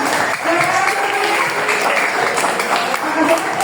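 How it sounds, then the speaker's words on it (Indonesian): An audience claps at an Indonesian anti-smoking and drug awareness talk, a steady dense wash of hands lasting the whole stretch, with voices faintly mixed in. "Oke, tepuk tangan dong."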